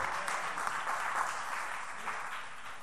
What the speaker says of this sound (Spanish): Ese aplauso sonó como desabrido